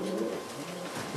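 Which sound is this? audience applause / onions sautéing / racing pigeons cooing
racing pigeons cooing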